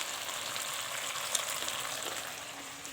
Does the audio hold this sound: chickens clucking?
no